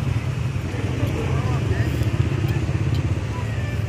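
Dense motorcycle and car traffic rumbles along a busy street in Bojonegoro, a steady, loud drone of engines with faint background voices.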